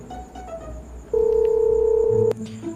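A single steady telephone dialing tone sounds loud and alone for about a second, set against a quiet room with faint background voices before and after, in a Sundanese comedy scene.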